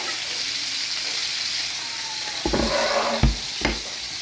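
Chicken and onions fry in a pan with a steady, close sizzle, joined near the end by a few sharp clacks and scrapes as food is moved around in the pan, with no talking.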